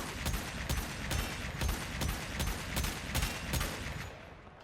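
Aklex Prime pistols firing in Warframe, a rapid steady run of about a dozen loud shots at an even rhythm over dense game noise, then tapering off at the end, with no speech.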